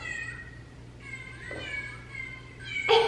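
Electronic toy cats set off by a button press meow in high, tonal, repeating calls, fairly close and clear, with a faint steady hum beneath and a louder squeal at the end.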